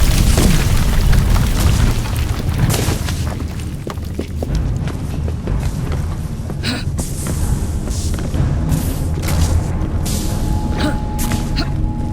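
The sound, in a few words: explosion in Assassin's Creed Syndicate video game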